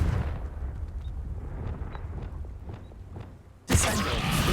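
The Confringo fire spell in Hogwarts Legacy goes off as a sudden loud explosive burst near the end, after a stretch of low rumbling ambience and faint footsteps.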